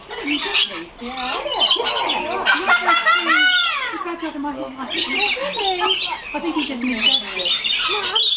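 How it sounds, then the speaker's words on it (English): A dense chorus of harsh, overlapping bird squawks and screeches fills the air nearby at a safari park, loud and continuous. "Normally it's like a couple, but that was a lot of birds."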